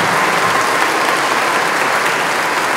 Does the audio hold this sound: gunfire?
no